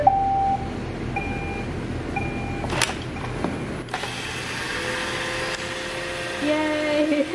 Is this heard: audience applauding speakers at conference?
no